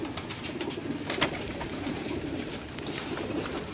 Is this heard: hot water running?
no